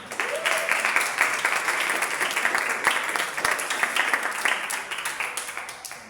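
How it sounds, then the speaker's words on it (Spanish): A church congregation applauds during a sermon, a dense wash of clapping that holds steady and thins slightly toward the end, with faint voices mixed in. "Un aplauso al Señor."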